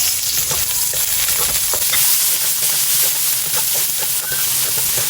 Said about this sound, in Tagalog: Magigisa na po tayo ng bawang at sibuyas.